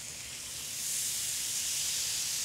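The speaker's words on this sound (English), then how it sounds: "And I'm hoping you heard the sizzle." Steak sizzling on a grill after being laid on, a steady broadband hiss that swells slightly after the first second and holds loud and even, with no voices.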